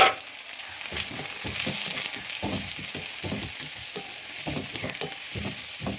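Chopped onions fry in hot mustard oil with whole spices, a steady bright sizzle broken by repeated stirring scrapes and clatters close by, with no talking.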